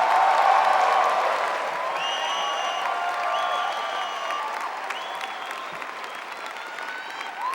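Sustained applause from an audience welcoming a speaker at the Ross School of Business 2012 commencement, a steady wash of clapping that holds evenly and slowly fades, with faint cheers and murmurs.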